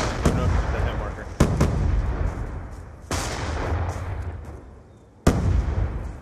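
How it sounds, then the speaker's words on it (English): Loud grenade and gunfire blasts in a first-person shooter video game, with four sharp booming hits spaced a second or two apart, each trailing off into rumbling noise, along with faint background chatter. "then I'll throw a nade"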